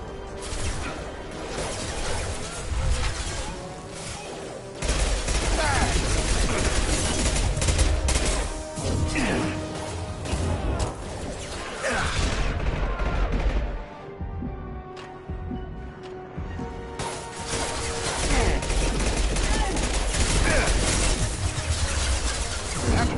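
Heavy gunfire in Mass Effect Legendary Edition, with dense bursts of shots and impacts rolling on almost continuously, dropping briefly around the middle before resuming loud and close.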